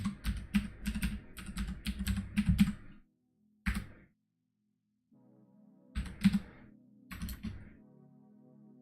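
Keys clack on an Apple II computer keyboard while a login is typed, with quick bursts of close, crisp keystrokes separated by pauses and a single isolated press in the middle.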